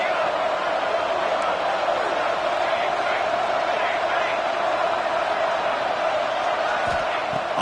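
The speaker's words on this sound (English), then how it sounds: "the crowd coming to life here" Crowd noise at a Nebraska versus East Carolina college football game as the defense holds in the red zone: a dense, continuous stadium roar, steady and enveloping for the whole stretch, with no single voice standing out.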